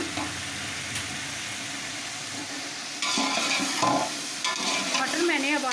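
Peas go into masala frying in a pan for Chinese chicken pulao. A steady sizzle rises louder partway through, with stirring scrapes close by.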